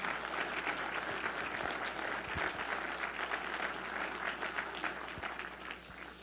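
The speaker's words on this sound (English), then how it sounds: "let's give them a round warm of applause" Sustained applause from an audience at a county government State of the County event in Putnam County, New York, steady and dense throughout, fading slightly toward the end.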